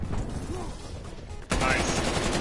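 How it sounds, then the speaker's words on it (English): Gunfire from a hostile sentry gun in Call of Duty Cold War, a steady burst of shots that suddenly grows louder and denser partway through, continuing without pause to the end. "there's a sentry gun in the garage"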